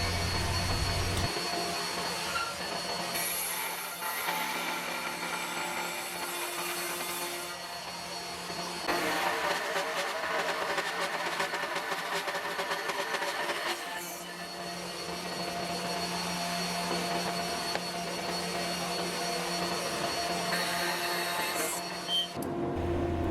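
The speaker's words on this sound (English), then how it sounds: "Using the same router setup, I could make the bridle joints for the base frame, the leg assembly" A Pantorouter machining bridle joints in wood for a furniture stand's base frame, giving a loud, steady router whine and roar that holds for over twenty seconds with slight shifts in pitch as the cut progresses.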